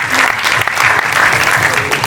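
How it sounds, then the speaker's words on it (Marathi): An audience applauds loudly for Jyoti ma'am at a Riteish and Genelia Deshmukh event, dense sustained clapping filling the space. "एकदा ज्योति मॅम साठी जोरदार टाळ्या झाल्या पाहिजे"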